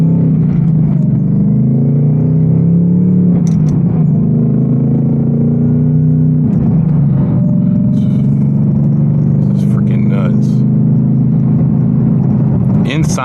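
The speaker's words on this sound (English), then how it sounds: "Inside, the exhaust is so loud I can't even really hear the supercharger whine" Loud, steady exhaust drone from a supercharged 810 HP Ford Mustang GT RTR V8, heard from inside while driving, with occasional swells as it accelerates and light clatter over the rumble.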